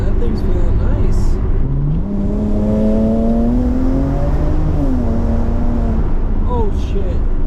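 BMW 335i with a VRSF intercooler and raised boost accelerating in a fourth-gear roll-on, heard from inside with the engine note climbing steadily, loud and continuous beneath a talking voice.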